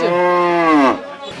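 One loud, close cow moo at a cattle market before Eid, a long low drawn-out call that bends upward before breaking off.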